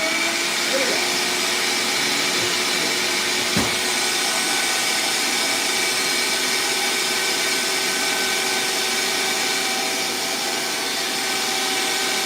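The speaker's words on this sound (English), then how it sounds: "We will drop the hot plastic down onto our forms, and then we let the vacuum go for a while" A vacuum forming machine drawing hot plastic down onto puppet-part forms, making a steady, loud, unbroken motor whine and hiss that runs throughout with only a faint knock partway through.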